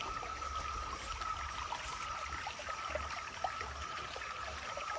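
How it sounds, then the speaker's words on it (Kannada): Water gurgles and trickles steadily along a small stream or ditch, a close, continuous babble with no voices. "ನೀರಿನ ಜುಲು ಜುಳು ಕೇಳ್ತಾ ಉಂಟಾ ನಿಮಗೆ"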